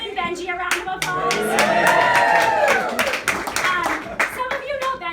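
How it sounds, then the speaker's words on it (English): Audience clapping at a launch party, dense close hand claps rising to a full round of applause that stays loud for about five seconds before thinning slightly. "Can we give my husband Benji a round of applause?"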